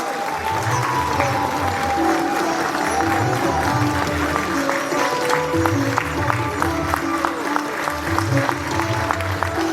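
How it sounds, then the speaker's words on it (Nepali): Sustained applause fills a Nepali press organization's national assembly hall with the Prime Minister present, a dense crowd clapping steadily throughout, with some music or voices faintly underneath. "सम्पूर्ण साथीहरूलाई म गडगडाट तालीका लागि म अनुरोध गर्न चाहन्छु।"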